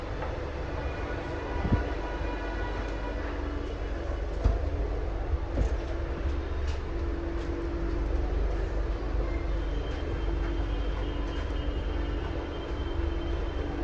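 Steady low rumble of a Delhi metro train running, heard from inside, with a constant hum and occasional clicks and clunks over the tracks, no talking.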